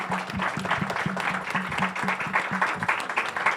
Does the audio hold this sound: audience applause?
yes